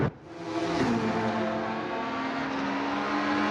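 A touring car engine in the Assetto Corsa racing game roars past loudly, its pitch sliding downward as it sweeps by, leaving a sustained high engine whine.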